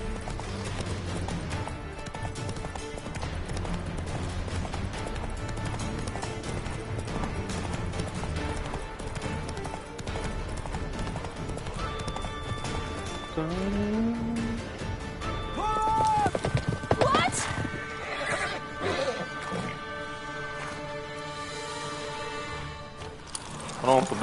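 A horse gallops across open ground in The Witcher 3 on PS5, steady clip-clop hoofbeats running under continuous game music and ambience, with a brief whinny-like sound partway through.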